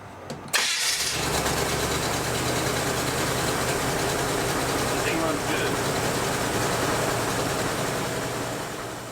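A 1957 Chevy 3100 truck engine cranks briefly, catches, then settles into a loud, steady idle close by, with a rough, slightly uneven rumble and people talking faintly in the background.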